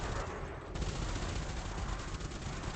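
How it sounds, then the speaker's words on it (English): Sputtering multi-cannons fire in a space combat video game with no distributor power: a continuous, loud rattle of rapid shots that forms a dense machine-gun-like barrage. "So even my sputtering multi-cannons without any distributor power, they can finish you off."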